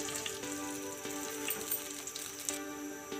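Dry red chilies frying in oil in a pan for kadhi pakora, a soft steady sizzle dotted with small pops and crackles, no talking.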